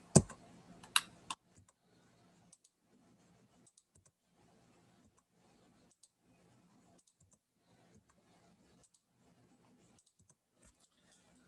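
A computer keyboard during AutoCAD drafting gives a few sharp close key clicks at the start, then sparse faint taps in quiet.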